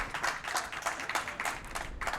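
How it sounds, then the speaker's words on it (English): Audience at a speedrunning marathon event clapping for a runner, a short burst of dense, fairly close applause lasting about two seconds. "Give this man a clap,"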